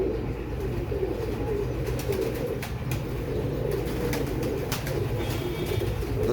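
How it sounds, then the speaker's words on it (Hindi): Pigeons coo steadily and close by inside a loft of Royal Teddy pigeons, a soft continuous layer of low murmuring calls with occasional light wing flutters and faint chirps, and no one speaking. "अगर मेरे कबूतर अच्छे लग रहे हैं, मेरी वीडियो अच्छी लग रही है आप लोगों को"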